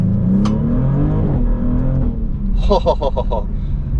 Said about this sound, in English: This car sounds so good on the upshifts. It snarls, it crackles, it pops.